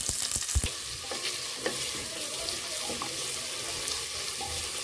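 Sliced onions and five green chillies sauté in a pan for a milk peas pulao, a close, steady sizzle with a spoon scraping and clacking several times near the start, then a softer frying hiss with no voices.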